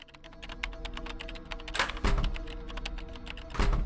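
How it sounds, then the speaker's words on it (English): Steady laptop keyboard typing with mechanical-sounding clacks from a Nancy Drew adventure game, continuous and fairly quiet, with a few louder thunks breaking the rapid tapping. "I don't want to hear the typing though."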